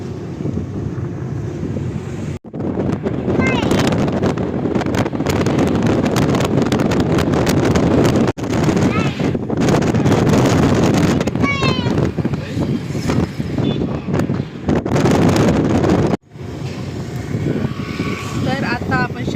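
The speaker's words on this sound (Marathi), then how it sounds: "मस्त हवा वगैरे सुटली छान छान." Wind gusting across the microphone on a road outside Shevgaon, a loud continuous rumbling buffet with a few brief dropouts and no clear talk.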